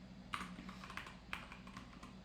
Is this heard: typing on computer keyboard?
yes